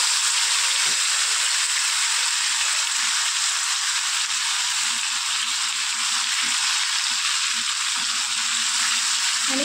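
Spice paste with green chilli sizzles steadily in hot oil alongside bay leaf and whole spices for mutton kheema, a loud, continuous hiss with small pops and no talking.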